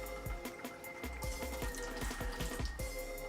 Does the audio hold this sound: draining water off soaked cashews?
yes